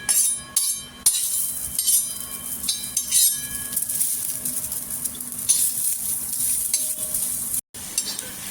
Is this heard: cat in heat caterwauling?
no